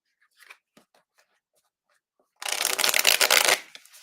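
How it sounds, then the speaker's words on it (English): Tarot cards being handled: a few soft taps and slides of cards, then a loud riffling shuffle lasting about a second, close and alone without talk. "I'll go ahead and pull some cards and see what comes up."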